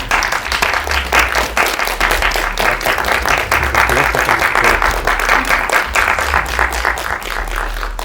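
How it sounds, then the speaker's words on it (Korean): An audience at a film press screening Q&A claps warmly to welcome the director and actors, steady dense applause with a low rumble beneath, sustained throughout. "따뜻한 박수로 맞아주시기 바랍니다."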